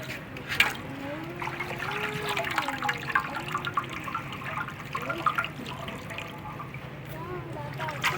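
Palm kernels are washed in water during red palm oil preparation in West Africa, giving a steady splashing, trickling wash with scattered drips, while voices talk throughout nearby.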